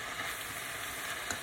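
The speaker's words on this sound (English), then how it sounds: "the bacon is in the pot" Bacon frying in a pot gives a steady, close sizzle with a faint stir partway through and no talk.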